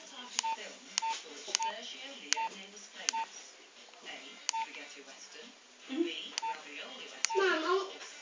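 An old Nokia mobile phone giving a series of short evenly spaced electronic beeps, then a brief rising startup tune, fairly faint with someone talking quietly over it.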